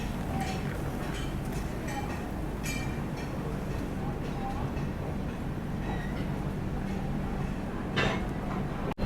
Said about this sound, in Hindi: अपनी मिथिला एक्सप्रेस निकल चुकी है रक्सौल रेलवे स्टेशन से